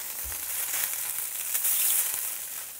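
Food browns in butter in a hot pan, a close, steady, crackling sizzle that holds throughout with a brief louder burst near the middle.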